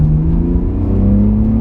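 A BMW E46 engine revs loudly and close, a rising droning whir with strong low harmonics climbing steadily in pitch over a brief stretch.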